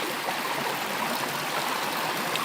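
A wide river running low in the dry season, its water flowing in a steady, broadband rushing wash that stays close and constant throughout, with no voices over it.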